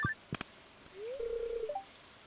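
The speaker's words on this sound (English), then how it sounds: "phone's ringing." Telephone in the video game Stardew Valley, heard as a couple of short blips followed by a clear, rising electronic tone held briefly and ending in a small upward chirp.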